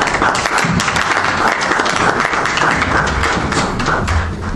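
Sustained crowd applause for a folk group playing songs of peasant life, with steady dense clapping running evenly throughout.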